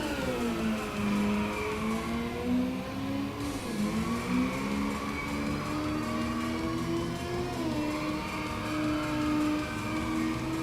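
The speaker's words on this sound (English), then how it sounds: "But the Gladio controls pretty well, though. This thing is basically a Lamborghini." A Gladio sports car, likened to a Lamborghini, drives steadily in an open-world video game, its engine droning continuously with gradual pitch rises and dips as it shifts and accelerates, loud and close throughout without talk.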